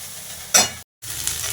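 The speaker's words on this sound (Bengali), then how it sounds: "আমি করলা, আলু আর কি বলে ভেন্ডি সব কিছু একসঙ্গে মিক্স করে এখন ভেজে নিচ্ছি" Bitter gourd, potato and okra frying together in a pan, a close sizzle with a brief stir that flares up, then a short cut before the crackle resumes.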